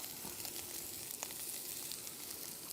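Airline chicken breast seasoned with Cajun spice sears in a hot pan, giving a steady, close sizzle and crackle that runs unbroken and fairly quiet, with one brief sharper pop partway through.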